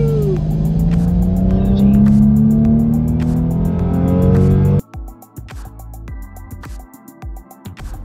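A Porsche 911 in sports mode with manual gear changes pulls away hard on a 0-60 drag run, its engine revving loudly and rising in pitch before cutting off abruptly, followed by quieter rattles and knocks.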